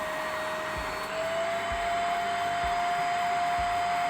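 A vacuum cleaner runs over carpet to lift a red stain, giving a loud, unbroken motor drone with a high whine and soft, regular low thumps beneath it.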